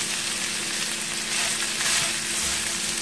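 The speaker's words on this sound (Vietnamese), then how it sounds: "Mình rang tôm với lửa nhỏ như này đến khi tôm khô" Freshwater shrimp stir-fry with pork and lime leaves in a pan over low heat, giving a steady, close sizzle with faint scraping of stirring throughout, no voices.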